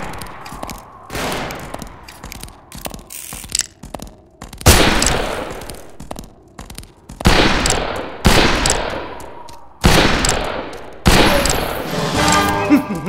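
Gunfire in the western shooter game Fistful of Frags, a string of loud, close shots at irregular intervals with echoing tails, plus smaller distant pops and clicks throughout.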